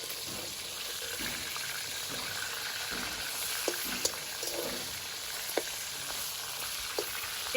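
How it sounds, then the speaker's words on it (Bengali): Katla fish head fries in a wok with a steady, close sizzle of hot oil, broken by a few sharp ticks and pops as the pieces are turned over, with no talking. "কড়াইয়ের মাছটা এবার একটু উল্টিয়ে দিলাম।"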